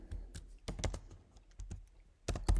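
Someone types on a computer keyboard while writing SwiftUI code: quick, irregular keystrokes clatter close by, with a few sharper key hits near the end and no talking.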